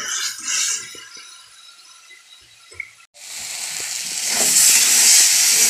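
Water poured into a hot pan of spiced masala with cumin, coriander, turmeric and chilli bursts into a loud, rising hiss and steam after a quieter first half, swelling and holding strong to the end.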